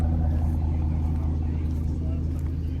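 Chevrolet Camaro muscle cars rumble at a car meet, a loud steady low engine drone that holds without pause, with voices talking faintly underneath.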